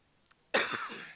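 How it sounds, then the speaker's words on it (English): A single loud cough from a man at a city council budget workshop, bursting out after near silence and trailing off over about half a second in a quiet meeting room. "Got me coughing now."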